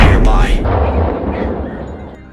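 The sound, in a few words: gunshots taking down a wild boar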